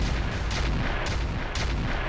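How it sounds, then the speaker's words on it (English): Clan mortar air bursts in the mech game Roguetech land as three evenly spaced heavy booms, each a broad crack with a rumbling tail, loud and close over a continuous low battle drone. "80 clan mortar air burst to the back"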